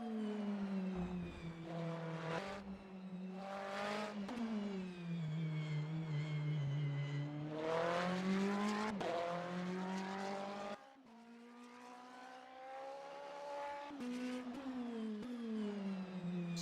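A Ferrari GT3 race car at the Singapore Marina Bay street circuit, its engine note rising and falling through repeated upshifts and downshifts, loud and close with a brief dip partway through, no voices.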